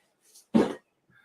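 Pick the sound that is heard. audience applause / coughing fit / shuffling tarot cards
coughing fit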